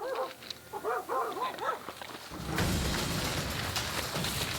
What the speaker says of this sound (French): les aboiements des chiens